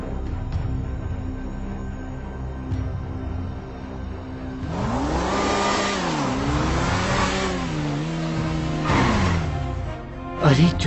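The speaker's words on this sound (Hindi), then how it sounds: "अरे चुपचाप से बाइक लगा देता हूँ यार" A motorbike rides in with engine revving and pitch sweeping up and down, then settles as it is parked, fairly close and steady throughout.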